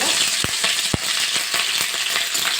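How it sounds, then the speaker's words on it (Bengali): Dried red chilli split in two and panch phoron crackling in hot oil for a cauliflower chop, a dense close sizzle punctuated by sharp pops and spits at irregular intervals. "তেলটা গরম হয়ে গেছে একটা শুকনো লঙ্কা দু চির করে নিয়েছি আর একটু পাঁচফোড়ন দিয়ে দেবো একটু ভাজা করে নেবো"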